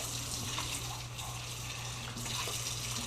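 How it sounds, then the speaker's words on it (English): Steady rushing water, like potato-cooking water draining into a sink, continuous and close, with a low hum underneath. "This is the water that was in there, the drain."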